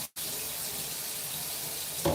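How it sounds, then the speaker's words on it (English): Water running steadily from a tap into a sink while being added to wavy hair, a continuous close hiss after a brief silence, ending with a clunk. "you might have just noticed I added water to this back section"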